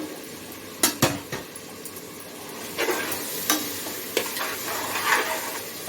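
Tomatoes sautéing with salt in a pan for a mushroom biryani base, a soft steady sizzle broken by a few sharp scrapes and clinks of a spoon stirring against the pan, close by with no talking.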